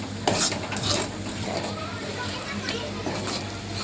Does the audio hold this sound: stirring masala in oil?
yes